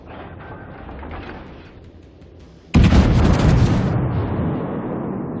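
Main guns of the Warspite battleship fire in World of Warships, one sudden loud, close broadband blast that rolls on as a sustained rumble, following a quieter stretch of engine and sea ambience.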